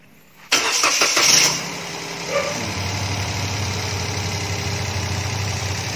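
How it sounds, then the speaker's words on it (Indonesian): A 2016 Toyota Agya automatic, G type, cranks and starts with a loud burst of engine noise. It then settles into a steady, smooth, low idle that runs continuously to the end. "Ini kita hidupin coba"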